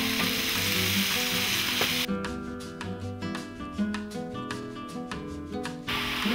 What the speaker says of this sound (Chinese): 把大蒜和洋葱炒香之后把牛肉放进去了